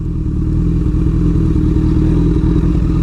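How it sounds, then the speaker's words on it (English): Motorcycle on a street with its rear wheel slipping on spilled oil, a loud continuous engine roar with rough clattering and thumping throughout, close and steady with no talking. "I think I just peeled out on some oil or something"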